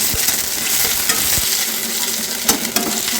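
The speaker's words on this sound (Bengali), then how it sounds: "পেঁয়াজটা একটু ভাজা হয়ে যাক" Onions frying in a little oil with marinated meat: a constant, bright, close sizzle, broken by a few sharp clicks of a spatula stirring in the pan.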